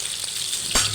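An egg frying in a pan gives a brief steady sizzle, with one louder crackling burst near the end and no speech.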